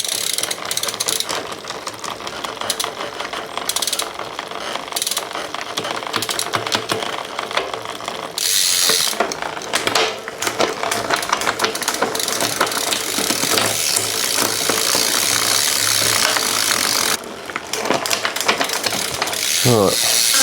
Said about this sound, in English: I'm going to inspect this cassette because it's pretty noisy on when you're using the clutch